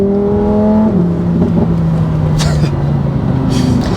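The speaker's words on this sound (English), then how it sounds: "I think it's just such an honor in 2025 to have a car that has a naturally aspirated, screaming V10. Let's take a listen." Naturally aspirated V10 of a Lamborghini Huracan Sterrato revs hard, then the note drops and settles into a lower, steady drone, loud and close with no talking.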